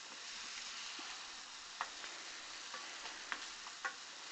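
Stir-frying in a wok over high heat gives a steady hiss of frying with several sharp spatula scrapes toward the end, close but fairly quiet, no one speaking.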